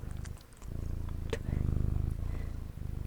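Close, pulsing purr of a cat being petted, rhythmic and continuous over a few seconds with a brief dip, plus small clicks of handling.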